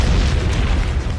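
A deep, loud explosion booms close by in a short, rumbling blast that fills the moment with heavy low-end energy and no speech.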